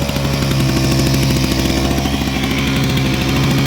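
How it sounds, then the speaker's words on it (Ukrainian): A Kraft& emergency power generator runs steadily just after starting, its engine having reached working speed: a close, continuous droning rumble with fast, even pulsing and no break or talk. "Досить тихо працює, хочу вам сказати."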